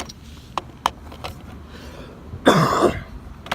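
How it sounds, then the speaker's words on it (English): A single loud, harsh cough bursts out near the mic after a few faint clicks and quiet background noise. "that cough has not gone away yet"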